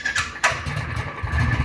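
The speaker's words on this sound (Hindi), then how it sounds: "Time to go, I hope start हो जाए बाइक हमारी।" A Royal Enfield motorcycle engine cranks and catches, then settles into a low, thumping idle, close and fairly loud with no speech.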